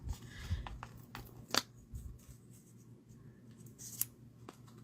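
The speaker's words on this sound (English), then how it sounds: "I want to trim it, but I'm going to do it the proper way so I don't cut myself again." Scissors trimming a paper-crafting die cut, a few quiet, crisp snips spaced irregularly, close up in an otherwise quiet room.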